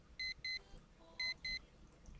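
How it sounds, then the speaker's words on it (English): Alarm clock in the video game Evil beeping in two pairs of sharp, bright electronic tones, evenly spaced, over a faint low background. "Hit the alarm."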